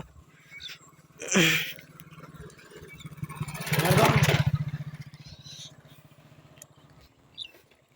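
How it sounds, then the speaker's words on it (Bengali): A motorbike passes along a flood-damaged village road, its low engine drone steady throughout and swelling loudest as it goes by near the middle, then fading away. "একটা বাইক আসছে দেখতে পাচ্ছ"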